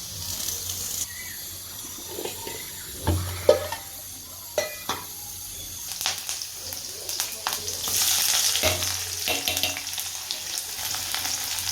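Chopped onion, crushed garlic and green chili frying in a pan, a continuous hiss and crackle for pitthale, broken by a few clanks and stirring scrapes; faint talk underneath.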